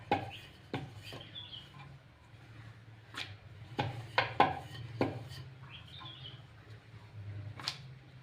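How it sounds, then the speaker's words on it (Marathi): A puran poli, a sweet flatbread stuffed with lentil filling, being rolled out with a rolling pin in the traditional way: soft, irregular wooden knocks and rubbing strokes, fairly faint and close, with no talking. "अशा प्रकारे ही पुरणपोळी लाटून घ्यायची आहे."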